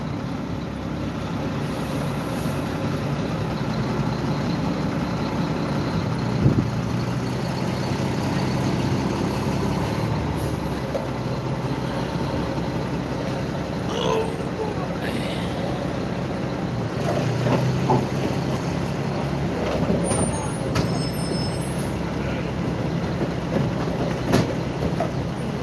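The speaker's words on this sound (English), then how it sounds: "What we're hearing are all the chains going back and forth." Chains rattle back and forth on a truck hauling a 50-ton Chris Craft boat, a continuous clattering over the heavy road rumble with no pause.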